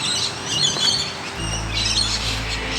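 Australian birds chatter in the background, scattered chirps and squawks rising and falling over a low steady hum, moderately loud and continuous.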